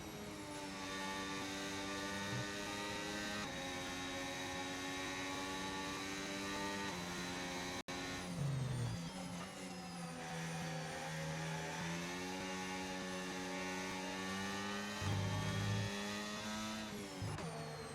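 Race cars in a racing video game at a Belgian circuit, engines droning loud and continuous with rising and falling pitch as gears shift, several cars layered together at full racing pace.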